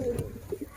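Pigeons coo softly inside their loft, a few short low murmuring calls close by with faint background rustle.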